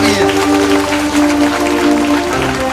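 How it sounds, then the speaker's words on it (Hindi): A church congregation claps steadily for Jesus Christ, a dense, continuous wash of applause blended with ongoing music and sustained tones throughout. "यीशु मसीह जोरदार ताली बजाएंगे यीशु मसीह के लिए।"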